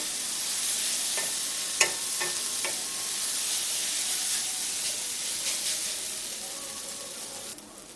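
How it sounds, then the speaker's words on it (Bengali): Flattened rice pulao with vegetables sizzling steadily in a pan for a Bengali chire polau breakfast, with a constant hiss and occasional light scrapes and clinks of a spoon stirring it, close-up. "এখন এটাকে দু মিনিট নাড়তে থাকবো সবজির সাথে"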